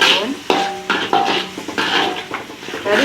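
Metal utensil scraping and clanking against a wok while stirring fried rice vermicelli, repeated strokes close by, with a light sizzle underneath.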